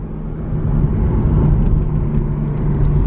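Porsche 981 Cayman S (2014) pulling hard under acceleration, a dense, loud engine drone with steady road rumble heard from inside the car, sustained for a few seconds with no talk.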